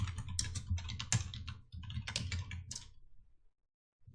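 Rapid clicking on a computer keyboard, close and fairly soft, comes in quick bursts of keystrokes for about three seconds before stopping.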